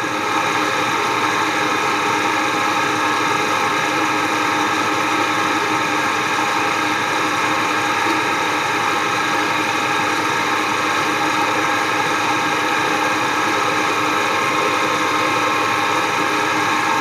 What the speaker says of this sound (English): And now I'm just going to slowly wind my drill bit in.